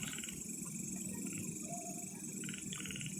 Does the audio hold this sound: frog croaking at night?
yes